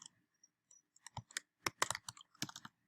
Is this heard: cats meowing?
no